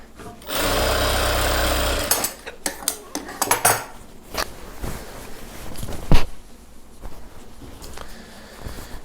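A sewing machine joins chudidhar pant pieces in a short loud hum of about a second and a half, followed by scattered clicks, clatter and handling noises nearby.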